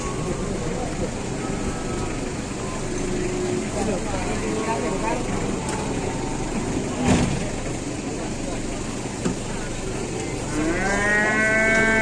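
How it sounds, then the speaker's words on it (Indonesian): A very large cow moos loudly and close by, several long lowing calls over an idling engine, with people talking in the background. "ini sapi ini gede banget ya"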